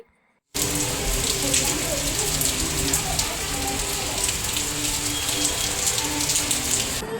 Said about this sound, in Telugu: ఫుల్ హ్యాండ్స్ షర్ట్స్ ఐరన్ చేస్తుంటే వర్షం అయితే పడుతుంది